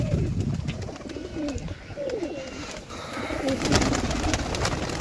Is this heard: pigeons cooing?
yes